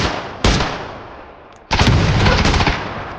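Gunfire in the battle royale game PUBG: two loud, close shots, the second followed by a short rattling burst, over steady background noise.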